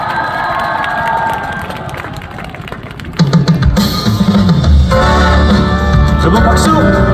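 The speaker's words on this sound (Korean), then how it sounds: "여러분 박수 부탁드리겠습니다." A concert audience claps and cheers loudly, at first a steady smattering of applause, then swelling into a dense burst of clapping and shouts that holds to the end.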